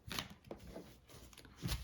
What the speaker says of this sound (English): This is a shuffle. I'm going to shuffle.